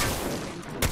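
Video game gunfire arrives as a dense, loud burst of overlapping shots that fills the moment, with a sharper crack near the end and no speech.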